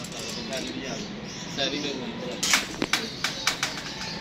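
Domestic pigeons cooing close by in a fancier's loft, low soft coos under a man's ongoing speech, with several sharper sounds near the end.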